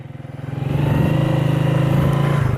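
Motorcycle engine on a country road ride, a steady close-up throbbing idle that rises into a louder, even drone as it revs and pulls away.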